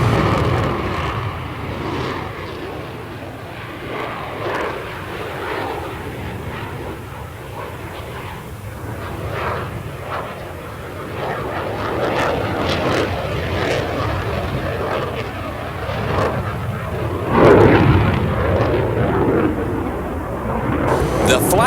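A Rafale fighter jet roars through a flying display at the 1989 Paris Air Show, its engine noise swelling and fading continuously with a louder surge near the end, under distant crowd chatter.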